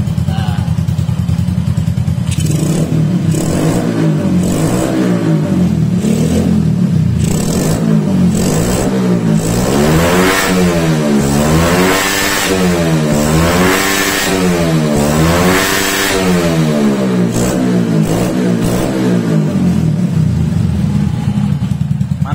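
A motorcycle with an aftermarket exhaust and PE 24 carburetor revs repeatedly, engine pitch rising and falling in waves over a rough idle, close and continuous.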